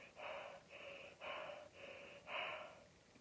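A man imitates a monster panting with his mouth, producing five breathy, rhythmic pants in a slow even pattern, close and moderately loud, the last one strongest.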